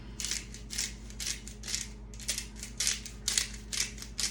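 A meat grinder, its fitting slightly askew, grinds meat for meatloaf during meal prep with a steady mechanical churn and repeated rhythmic bursts of high-pitched grinding, moderately loud and close with no talking.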